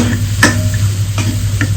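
Ground spice paste being sautéed on low gas in a cumin tempering for a bottle gourd dish, a steady soft sizzle broken by a few sharp spoon scrapes and taps against the pan, close and without talk.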